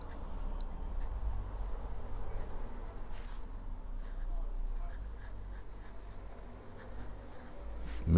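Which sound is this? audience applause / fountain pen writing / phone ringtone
fountain pen writing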